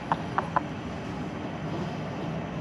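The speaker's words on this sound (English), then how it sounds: "got a little blower action going now." An Eberspacher Airtronics M3 D4L diesel heater installed in a Hewescraft 210 boat runs its blower with a steady, low whooshing hum, opening with three short ticking clicks and continuing evenly, close by.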